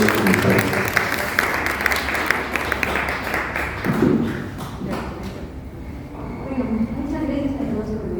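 An audience applauds a presenter at a book launch, steady clapping from many hands filling the room, fading after a few seconds as a single voice begins speaking over the last claps.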